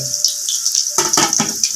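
A bucket of water pours into a cooking pot for ginataang langka, a broad splashing rush in several surging bursts, close and fairly loud, with no talk.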